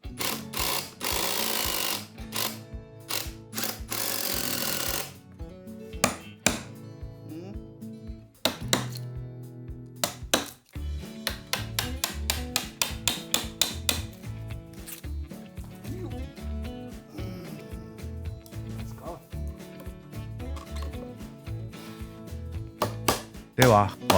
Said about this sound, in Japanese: 甘くならないように慎重にメンタ彫っていきます。